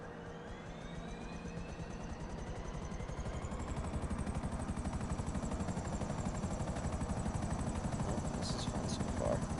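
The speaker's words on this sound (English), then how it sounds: "I'm just gonna freaking fly this helicopter." Helicopter flying in the video game GTA 5, a steady rapid rotor chop and engine whine that grows slightly louder and continues throughout, with faint game sounds in the background.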